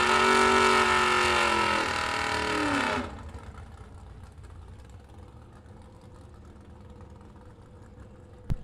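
A drag racing car at a bracket race comes down hard with sparks and shuts off. Its engine roars loud and close with a falling harmonic whine, then cuts off abruptly, leaving a faint low rumble and a sharp knock at the end.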